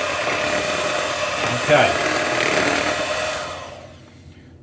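Pancake batter is whisked in a bowl at a Shrove Tuesday school assembly, giving a steady whirring churn that fades out at the end, with a voice speaking briefly.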